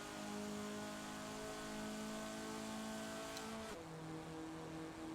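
A modified Hillman Imp in Forza Horizon 4 accelerates with a steady droning engine note that holds, then drops sharply in pitch at a gear change and settles lower, heard alone without talk.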